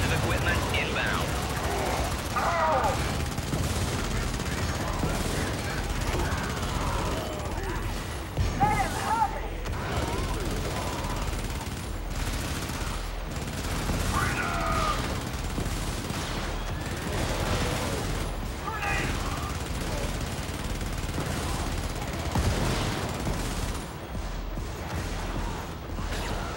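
Dense gunfire in the video game Helldivers on a cyborg mission, a steady wash of bursts and mechanical clatter running the whole time, with voice lines over the battle.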